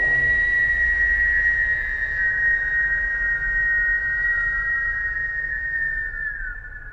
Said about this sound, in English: When you exhale, you're going to whistle.